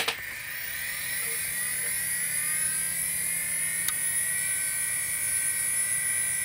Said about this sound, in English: now we engage in the loud, ripping good time that is legacy SCSI.